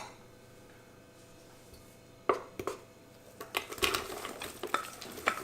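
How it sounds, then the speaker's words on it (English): Onions go into a pan of olive oil and butter fitted with a Frywall. It is quiet at first, then a sudden clatter and a soft sizzle follow, with stirring and utensil scrapes against the pan. "And then we're going to add our onions."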